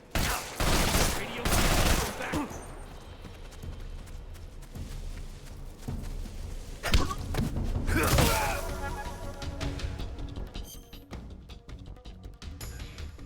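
Bursts of gunfire in the stealth action game Metal Gear Solid Delta: Snake Eater, with two loud volleys separated by quieter stretches of in-game ambience and thuds, layered over game music and sound effects.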